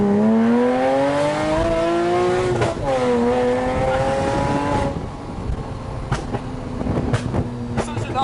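Rocket Bunny widebody Porsche Cayman revving hard as the clutch is kicked, engine pitch climbing and dipping with a loud, near roar; later revs settle lower.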